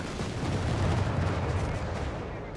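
Dense, continuous battle din from Company of Heroes 3, with rapid gunfire and booming artillery blasts piling into a loud, unbroken roar across the whole stretch.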